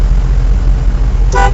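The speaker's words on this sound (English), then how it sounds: "honk your horn and tell them" A short car horn toot cuts through loud, rumbling road noise near the end, brief and close.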